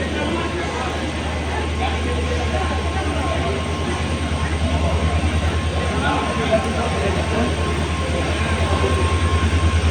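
A train rolls along with a continuous low rumble and a hum, and a rhythmic clatter of wheels grows clearer toward the end, with faint background voices.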